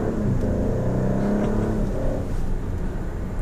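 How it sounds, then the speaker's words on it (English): A 2018 Alfa Romeo Stelvio Quadrifoglio SUV engine revs up steadily under light, quarter throttle in automatic, a close, smooth rising hum with some road whir, no talking. "Alright, so we'll just do a small acceleration in automatic."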